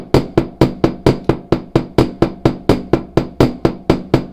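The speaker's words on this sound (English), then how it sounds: "I just happen to have my bench block sitting here, right? And I'm gonna hammer," A hammer strikes metal on a steel bench block in an even, steady rhythm, about fifteen sharp ringing blows, loud and close with nothing else heard.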